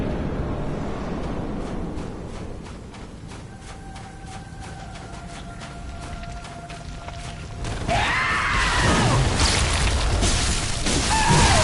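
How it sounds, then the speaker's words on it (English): Screaming in Bloodborne The Old Hunters, a loud harsh wailing cry that rises over a rumbling, clattering game soundscape, swelling louder and more intense in the second half. "Also, what's with the screaming?"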